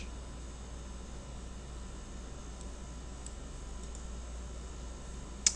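A computer mouse is right-clicked and refresh is selected on a quiet desk. A few faint, sparse clicks sit over steady low hum, and the last click near the end is sharper.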